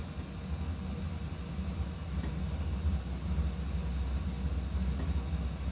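Steady low engine rumble and airflow of a Boeing 737 MAX on landing approach in a flight simulator, continuous and fairly loud with no talking.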